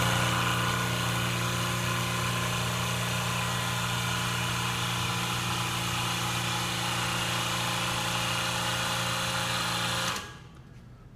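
A hydraulic cylinder pressed down against contact builds pressure, a steady loud mechanical whine and hum with a constant drone that holds evenly, then cuts off abruptly near the end.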